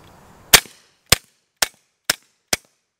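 Five sharp Hi-Point carbine gunshots fired into a dirt berm at a range, loud and evenly spaced about half a second apart, each a crisp crack with a short decay, heard alone.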